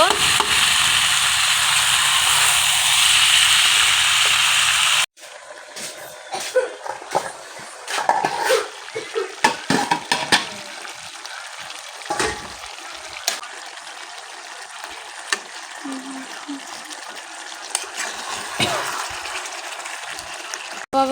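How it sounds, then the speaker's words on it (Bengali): Broiler chicken and potatoes sautéing in a pan give a dense, close sizzle for several seconds, then give way to intermittent scraping and clanking of stirring, with a person talking at times. "এখন ভালোভাবে কষিয়ে নিব"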